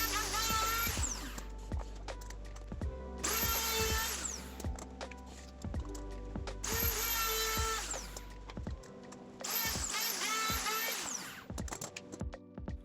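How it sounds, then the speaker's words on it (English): A wood router fitted with a follower roundover bit rounds over the edges of chair parts, whining loudly in four long bursts separated by brief pauses and quieter handling noises. "used a follower roundover bit in the router to round over any edges that won't be joined"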